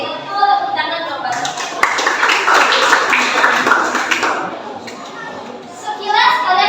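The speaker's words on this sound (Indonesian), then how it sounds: "Tepuk tangan coba." A class of junior high school students applauding in a classroom, a loud burst of clapping mixed with children's chatter, following a teacher's voice.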